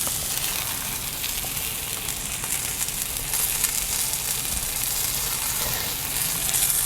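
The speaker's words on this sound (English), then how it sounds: "Since I am going to cook this steak all the way through, I just need to monitor the temperature." A chuck eye steak sizzles steadily in a pan on near-high heat, a dense continuous crackle and hiss with no talking over it.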